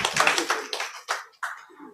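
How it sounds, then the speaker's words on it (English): A few people at a psychiatry training programme clap in short, scattered bursts, sharp and close, with gaps of near silence between them. "Give her a clap."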